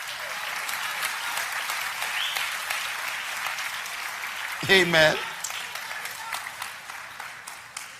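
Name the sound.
audience applause and clapping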